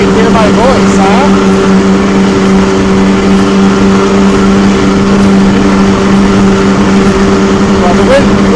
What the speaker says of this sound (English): Well, the wind's working pretty good now. You should be able to hear that.